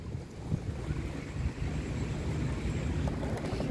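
Wind blows steadily off the sea in a Saudi Arabian seaside park where people are fishing, a continuous low rumble and buffeting against the microphone with a faint wash like surf beneath it, and no voices.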